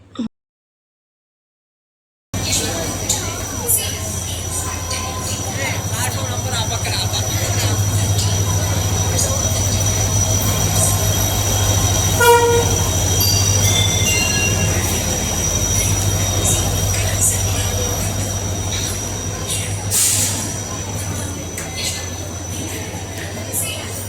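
Steady low rumble of trains at a South Western Railway station, with metallic wheel squeals and tones, plus faint voices in the background.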